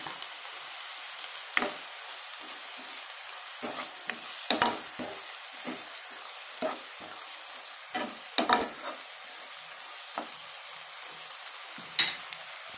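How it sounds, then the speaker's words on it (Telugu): Chopped onions fry with ginger garlic paste in a pan, a steady soft sizzle running throughout, broken by scattered sharp stirring clicks and scrapes of a spoon. "ఇప్పుడు ఉల్లిపాయ ముక్కలు బాగా ఫ్రై అయిపోయినాయి"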